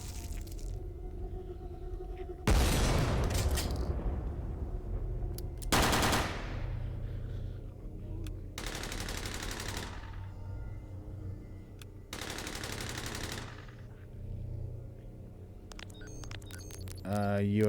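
Long bursts of gunfire aimed at the true mimic in the Lovecraftian RPG Paracom, several sustained rattling volleys a few seconds each, separated by pauses with a steady low background hum and a brief metallic jingle near the end.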